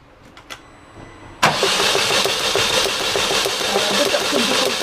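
A 2004 Vauxhall Corsa C with its spark plugs out cranks over on the starter. After a few faint clicks, a loud, steady churning whirr begins and runs on without a break.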